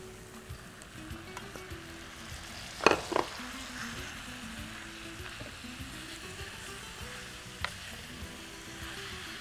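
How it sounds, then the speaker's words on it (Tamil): Spinach fried with turmeric, coriander powder and salt in a pan gives a soft continuous sizzle, with a few sharper clatters of a spoon stirring near the start and once more later, and no talk. "இப்போது கீரை போட்டலாம்."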